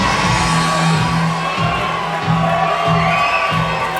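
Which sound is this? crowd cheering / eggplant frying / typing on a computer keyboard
crowd cheering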